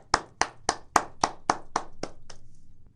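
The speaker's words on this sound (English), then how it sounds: "Clap for yourselves" A classroom of children clapping for themselves in about eight sharp, evenly spaced claps in unison, close and loud, then stopping.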